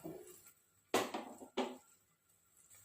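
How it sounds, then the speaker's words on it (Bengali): Vegetables drop into a pot of chicken stock for chicken soup, making two distinct clattering thuds against the pot with faint quiet between them. "সব সবজিগুলো একবারে অ্যাড করে দিলাম"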